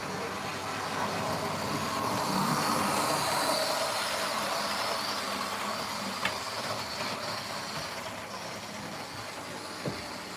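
A Lima model train locomotive runs steadily on a layout, a continuous close mechanical rumble and whir with faint rail clicks and a couple of small knocks, no talking.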